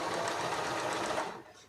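A sewing machine stitching the shoulder seam of a girl's dress runs in a fast, steady whirring buzz close by, then slows and stops near the end.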